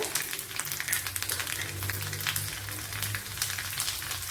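Small shallots dropped into hot oil with mustard seeds already popped, giving a dense, even sizzle with fine crackles, close up and continuous throughout.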